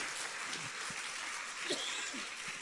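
A church congregation claps hands together in a steady, dense wash of applause, evenly loud throughout with faint murmuring voices underneath.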